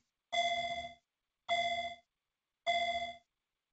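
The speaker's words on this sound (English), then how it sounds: "That's not a bad little electronic bell." Three identical electronic bell tones, each a bright sustained ring that fades over about half a second, spaced evenly with silence between them.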